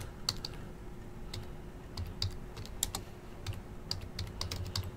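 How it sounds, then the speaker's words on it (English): Someone types on a computer keyboard with one hand, producing sparse, irregular clicks and taps at close range over a low background hum, with no talking. "typing with one hand is kind of uncomfortable"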